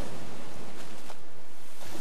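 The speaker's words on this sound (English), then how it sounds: "Fierce winds can whip the waves into destructive walls of water." Ocean surf rolling onto an Olympic beach, a steady broadband wash of breaking waves with wind noise, close and continuous, no voices.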